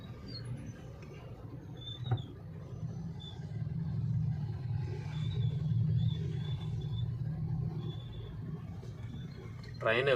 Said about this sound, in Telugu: ట్రైన్ వెళ్తుంది, మెట్రో ట్రైన్.